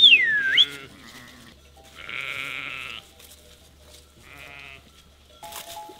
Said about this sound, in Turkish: Abi bu koyun çok yaramaz.